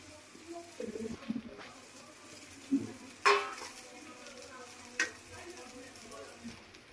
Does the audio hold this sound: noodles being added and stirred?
yes